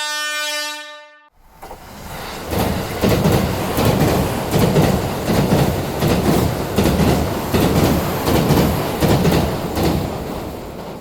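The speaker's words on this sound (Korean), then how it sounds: "경적 소리와 열차가 달리는 소리는 더욱더 커지고" A train approaching along the tracks near a tunnel and a station sounds a long, loud horn blast. The train then runs past close by with a heavy rumble and rhythmic clatter that stays strong, and no one speaks.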